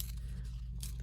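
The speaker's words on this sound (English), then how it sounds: "Fussy tearing." Paper torn by hand for crafting gives a short, soft ripping sound over a steady low hum, with a brighter tear near the end.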